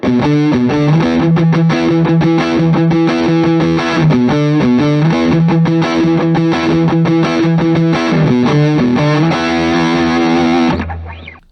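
Electric guitar through an overdrive pedal with boosted mids and cut low end plays a repeating riff with gritty, saturated tone, loud and continuous, ending on a ringing held chord.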